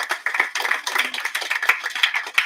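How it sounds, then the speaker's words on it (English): An audience applauds at a prison graduation ceremony for inmates and officers: a dense, steady patter of many hands clapping together, loud and continuous, with no speech over it. "Can you give a round of applause?"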